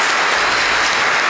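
A studio audience applauds, dense, loud clapping that fills the room in a brief, continuous burst.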